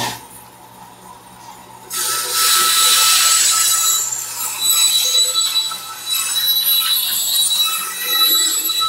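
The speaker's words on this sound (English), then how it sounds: "So let's roll that beautiful bandsaw." A bandsaw cutting open an AGM car battery: a quiet motor hum, then a loud, sustained rasping and whining as the blade bites into the casing and keeps grinding through for several seconds.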